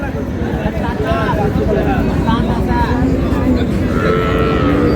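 Cows and calves moo repeatedly amid a dense, noisy crowd din, with people talking throughout in the busy outdoor Raniganj cattle market in Dinajpur, Bangladesh.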